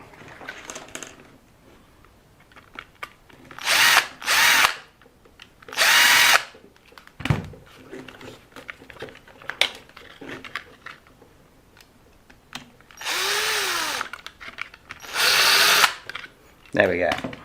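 Short bursts of a cordless power drill backing out bumper screws on an LC Racing RC car, several separate whirs of a second or two each, close and loud, with quiet handling noise and a few spoken words between them.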